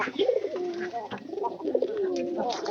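Pigeons cooing close by in repeated soft, throaty rolling phrases, several overlapping calls over a few seconds with a bit of faint background noise.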